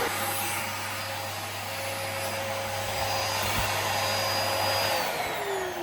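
A Dyson DC17 Absolute vacuum cleaner runs on deep carpet with a steady, close motor whine and airy rushing hum, its pitch sliding slightly near the end.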